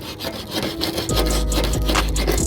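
Sanding paint off a car part, a steady abrasive scraping and rubbing close by, in rhythmic back-and-forth strokes with a low constant hum underneath.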